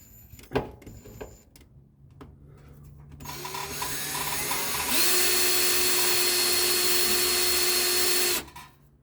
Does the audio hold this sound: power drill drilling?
yes